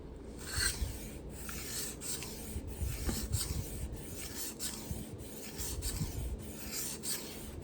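A Kabar knife blade being sharpened on a 1,500 grit whetstone, with close, steady rasping strokes repeating back and forth at an even pace.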